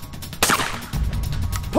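Single blast from a Typhoon Defence F12 shotgun on an outdoor trap range, a sharp loud report followed by a short decaying tail and a low rumble.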